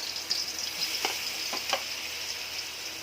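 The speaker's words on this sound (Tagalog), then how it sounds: "Yun po ay igisa na natin ang bawang." Garlic sautés in a pan for a Filipino sopas, a steady close sizzle and crackle with a few faint stirring taps and no voices.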